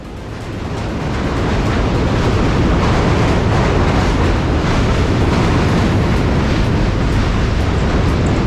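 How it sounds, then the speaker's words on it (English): A loud, continuous roar of a subway train rumbling past on the Manhattan Bridge in New York City, building over the first second and then holding steady as a dense, rushing noise. "Walking across this bridge was extremely loud, with the subway passing by pretty frequently."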